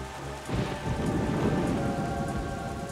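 A storm in The Legend of Zelda: The Wind Waker HD, with steady heavy rain and a rolling rumble of thunder that swells after a brief quieter start and stays loud throughout.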